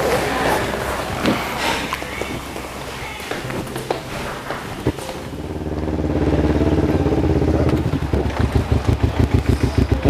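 A motorcycle engine starts and pulls away, rising into a loud, pulsing throaty drone with rhythmic revving toward the end, mixed with wind noise and some background talk.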